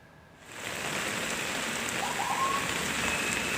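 Heavy rain pours down on Jalan Raya Panjang in Kebon Jeruk, West Jakarta, a dense, steady hiss of drops striking the street and surfaces that swells in after a quiet first half-second and then holds loud and unbroken, with no voices.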